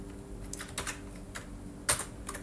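Typing on a computer keyboard while entering a label into an HTML input form in Google Sheets, with soft, irregular key clicks and a couple of sharper taps, close and fairly quiet over a faint hum.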